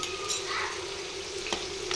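Poppy seed, cashew and tomato paste with turmeric, salt and cumin powder frying in a pan, a faint steady sizzle with a couple of brief stirring scrapes.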